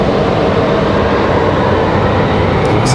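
Breeze Airways airliner arriving at Raleigh Durham International on approach to land, a steady loud broadband engine roar holding throughout with no break.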